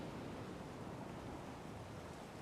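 Ocean waves break on a shore in a steady broadband wash with fizzing foam, continuous and fairly close, with no voices.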